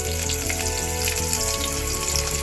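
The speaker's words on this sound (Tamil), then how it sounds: "எண்ணெய் கொதிச்சுட்டு இப்போ கடுகை போடுவோம்." Mustard seeds and chopped onion fry in hot oil for a tamarind curry, giving a loud, dense, continuous sizzle close up and unbroken throughout, with no speech.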